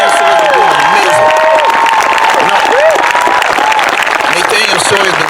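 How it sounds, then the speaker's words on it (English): Loud, continuous applause and cheering from an outdoor crowd at a George Floyd justice rally in Vince DiMaggio Park, Marina, California, with voices shouting and whooping over steady clapping throughout. "I want a big round of applause for Nathan Sawyer"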